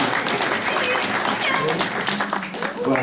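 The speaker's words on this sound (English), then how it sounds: "give Cherry and little 10-week-old Millie a big round of applause" Dense, steady applause from an audience at an assistance-dog demonstration, clapping for a trainer and a 10-week-old puppy; the clapping fills the whole stretch at an even level, with voices mixed in.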